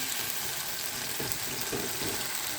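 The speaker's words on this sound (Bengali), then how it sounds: "এবার ভালো করে একটু নাড়াচাড়া করবো আর ভাজা ভাজা করবো" Masala with green chilli paste and coriander leaves fries in a pan for egg curry, a continuous soft sizzle and hiss with faint scraping stirs, steady and close with no talking.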